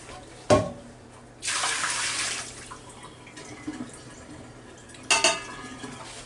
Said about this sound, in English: I want to just empty this water out that was in there.